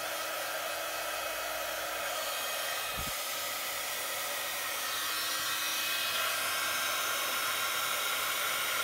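A hot air heating tool blows continuously in a steady close hiss for a Christmas tree treat holder craft, with one brief knock partway through and no talk.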